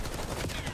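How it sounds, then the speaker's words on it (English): Gunfire rattles through a Counter-Strike style bomb-site round during a live esports stream, a dense, continuous burst of overlapping shots filling the brief moment. "Exchange of gunfire."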